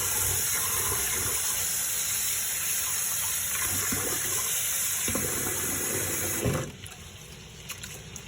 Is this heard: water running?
yes